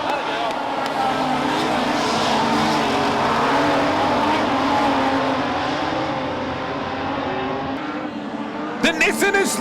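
A Nissan race car roars past nearby during a race, its engine note loud and sustained before easing off as it slows, with a commentator talking over it.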